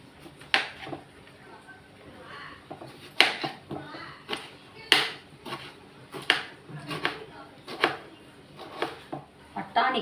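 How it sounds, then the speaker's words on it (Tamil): A knife chops through a tomato on a cutting board while preparing pea kurma, about a dozen sharp, fairly regular knocks close by, with faint speech in the background. "அதனால் ஒரு தக்காளி கட் பண்ணிக்கிறேன்."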